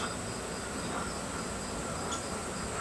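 Honey bees at a hive during a beekeeping inspection of brood frames make a steady, dense hum that holds throughout, close and even with no talking.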